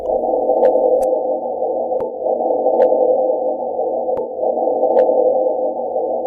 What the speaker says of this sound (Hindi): मंगल ग्रह की साउंड वेव हमें इसकी आवाज से रूबरू कराती हैं